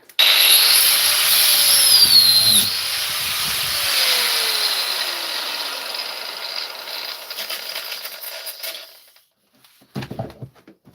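Angle grinder whirring loudly in a workshop, a high whine that winds down after a few seconds and fades out, followed by near silence and a few faint handling clatters.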